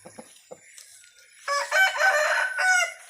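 Fighting cock roosters cluck in short, scattered bursts, then one rooster lets out a loud, close crow lasting more than a second before a second, shorter crow. No one speaks.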